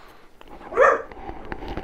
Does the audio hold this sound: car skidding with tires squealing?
no